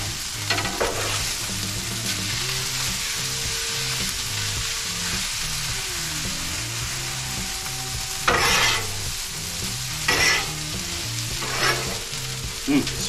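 Mongolian beef frying on a Blackstone griddle sizzles loudly and continuously over a low steady hum, with several short scraping bursts as a spatula stirs the meat.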